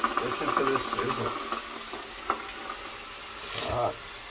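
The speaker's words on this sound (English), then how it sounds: "Listen to this sizzle." Water hissing and sizzling on a hot barrel sauna heater in a backyard, a steady close hiss with short bursts and a louder surge near the end, under a voice.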